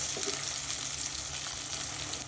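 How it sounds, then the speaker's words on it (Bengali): Chopped onions, sliced green chillies and salt sizzle in hot oil for a fish and potato chorchori, a steady dense crackle that holds close and even throughout with no talk. "তেল গরম হয়েছে, পেঁয়াজ কুচি দিয়ে দিব ফালি করে রাখা কাঁচামরিচ"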